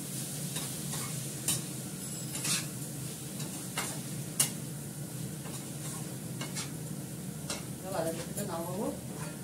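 Vegetables frying and being stirred in a pan, with a continuous sizzle and scattered scraping and clinking from the utensil against the pan, and a few faint voices near the end.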